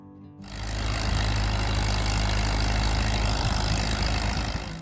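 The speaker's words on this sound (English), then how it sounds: "the steady roar of the engine at dawn" A Farmall M tractor engine starts up abruptly and settles into a steady, loud, low roar that holds evenly throughout, with no other sounds.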